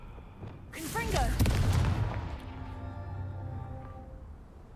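Fire spell blasting in Hogwarts Legacy, a single loud burst swelling over about a second and then fading into a lingering rumble, with a voice shouting over the start.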